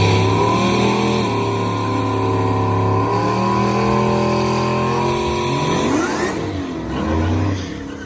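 A Jeep Grand Cherokee Trackhawk runs at a drag strip, its engine droning loud and close with a sustained roar that shifts in pitch, then sweeps upward as revs change near the end.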